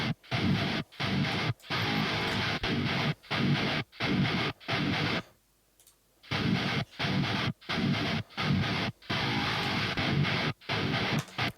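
Electric guitar tone through a preamp saturation plugin, played as a chopped, rhythmic riff in bursts, with a short silent gap in the middle as the plugin is toggled.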